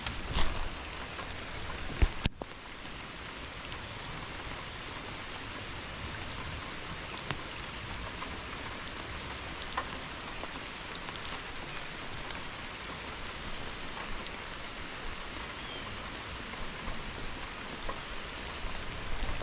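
Rain falls steadily and evenly on the water and surfaces outdoors during a fishing tournament, with a sharp click and a few small knocks near the start.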